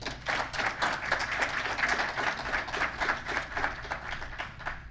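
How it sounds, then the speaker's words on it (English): Audience applause welcoming a speaker at a security conference talk, many hands clapping in a lively, slightly uneven patter that holds steady for several seconds at moderate distance. "Please welcome him with a round of applause."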